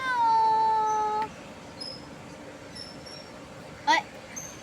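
A hungry cat gives one long, steady meow at the start, then the scene goes quiet apart from faint background noise and a brief sharp sound near the end.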